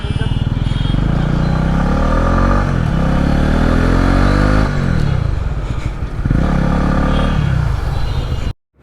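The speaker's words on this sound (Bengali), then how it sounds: "চলেন একটু চালায় দেখি এভিএসটা ঠিকঠাক মতো কাজ করতেছে কিনা" A second-hand motorcycle on a test ride, its engine revving up through the gears in repeated rising sweeps, loud and close with brief drops between shifts before cutting off at the end.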